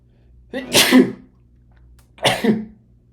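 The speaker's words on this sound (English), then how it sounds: "Oh god, I'm gonna sneeze." Two loud, close sneezes about a second and a half apart, each a sharp burst of breath with a voiced edge, alone against a quiet room.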